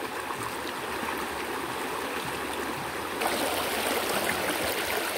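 The Jalalá river flows steadily, a continuous rushing babble of water that holds at a moderate level and grows slightly fuller partway through, with no voices.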